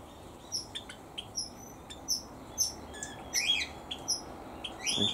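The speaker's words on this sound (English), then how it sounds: "What these teals are so squawky about this morning." Teal ducks squawking and calling in an aviary in the morning, a series of sharp high calls in irregular bursts, some overlapping, fairly close against a quiet outdoor background.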